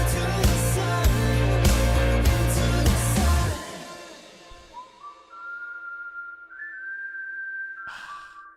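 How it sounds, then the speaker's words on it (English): A song plays as a full mix, then drops away, leaving a clear whistled melody of sustained, rising tones in the song's quieter passage. "Such a beautiful whistling track in there as well too"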